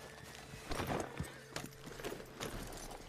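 Horse hooves in Red Dead Redemption 2, a few irregular clip-clop hoofbeats at moderate distance, fairly quiet, with faint background ambience.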